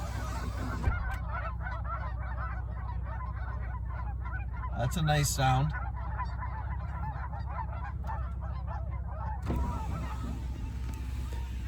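Several geese honk repeatedly in an open outdoor setting with a faint wind rumble, their calls layered and ongoing, and a person speaks briefly partway through.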